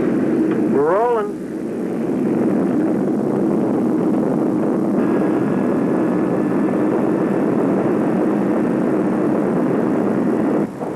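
Airliner engines roar steadily and loudly through a takeoff roll in a 1979 film scene, a constant broad rumble with a rising whine, while a voice speaks briefly near the start.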